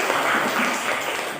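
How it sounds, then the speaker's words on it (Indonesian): Classroom applause for a student: a steady wash of many hands clapping together, continuous and fairly loud for over a second, fading slightly at the end. "Oke, tepuk tangan untuk saudari Salwa."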